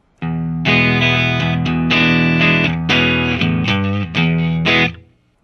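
A Fender Telecaster played through a Marshall JCM 2000 amp, miked with a Shure SM57 and with the phaser pedal switched off, rings out in loud, sustained distorted chords that change several times before stopping.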